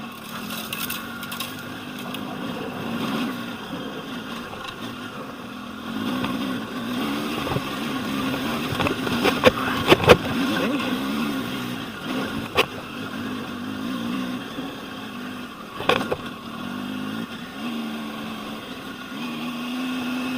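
Triumph Tiger 800 motorcycle engine chugging along in second gear over off-road obstacles, a steady low putter with occasional knocks and rattles, fairly close.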